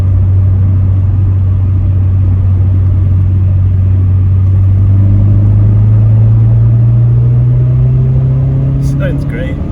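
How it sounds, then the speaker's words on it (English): A VW Golf GTI MK2 16v accelerates out of a corner, its engine and induction noise a loud, steady drone rising in pitch across the clip, heard from inside the car. "Let's see if we can get some of that induction noise that I love on this car."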